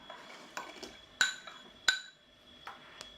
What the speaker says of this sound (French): N'oubliez pas de bien mélanger pour éviter de faire des grumeaux.